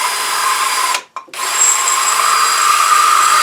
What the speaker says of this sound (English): the first thing we're going to do is drill a hole through the top